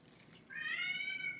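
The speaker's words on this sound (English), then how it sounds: "sorry about the kitty noise." A pet cat meows loudly in a long, drawn-out, wavering call, close by and alone after a short quiet stretch, with a faint low hum underneath.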